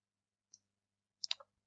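A few isolated keystrokes on a computer keyboard: one click, a pause, then a quick cluster of three, crisp and close against near silence.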